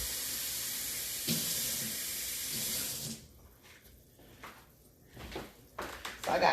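Tap water running steadily into a container in a home kitchen for shrimp and grits, loud and continuous for about three seconds, then stopping, followed by quieter clinks and handling noises.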